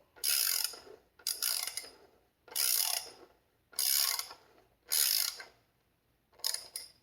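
A ratchet wrench snugs up bolts in six separate bursts of rapid clicking, each about half a second long, close by and clear with short silences between them.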